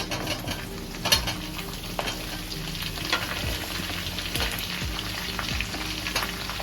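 Diced capsicum frying with chilli chicken in a large pan, a continuous close sizzle punctuated by repeated scraping stirs and occasional metallic clinks.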